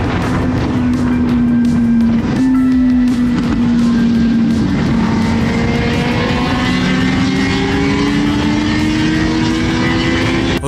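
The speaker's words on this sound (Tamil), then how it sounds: "சிட்டிக்குள்ள அந்த சூப்பர் பைக்ஸோட எக்ஸா சவுண்ட் சான்ஸே இல்லை." Superbike exhausts, including 1000cc and 500cc machines, roar through city streets: a loud, sustained engine drone with rising and falling pitch as bikes rev and pass nearby, continuous throughout with no talk.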